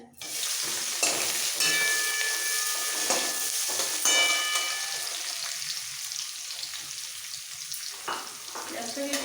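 Chopped onion sizzling and frying in hot oil with tempering spices and curry leaves for a South Indian egg curry, a loud continuous crackling hiss with occasional stirring scrapes, no talking.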